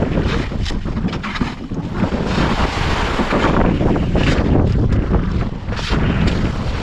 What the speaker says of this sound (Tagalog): sobrang lakas ng hangin at saka alon